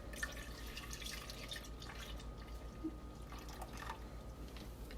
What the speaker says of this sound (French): On met le lait.